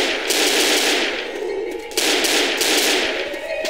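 Sustained automatic gunfire in the video game Left 4 Dead, loud rapid bursts in two long strings with a brief gap between them, no speech over it.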